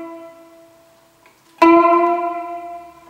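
Single ukulele note plucked and bent upward in pitch while playing a song, a sharp attack followed by a sustained ringing tone, close and clear.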